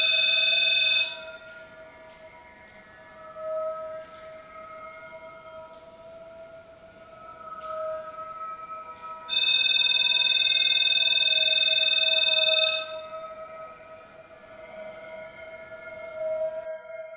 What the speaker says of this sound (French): Et elle fait sonner ce pod.